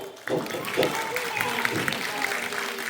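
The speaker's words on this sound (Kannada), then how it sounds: "ಎಲ್ಲರೂ ಚಪ್ಪಾಳೆ ತಟ್ಟಿ" An audience claps during a stage drama at a Ganesh festival, a sudden burst of applause that starts sharply and carries on steadily, mixed with voices and crowd noise.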